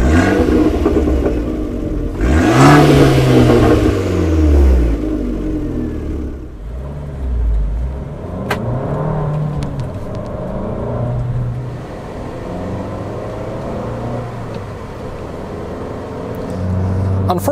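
A 160 hp 1.4-litre turbocharged Abarth 500 engine revs hard, a loud rising blip followed by falling and repeated revs that settle back into a rumbling idle, with no voices.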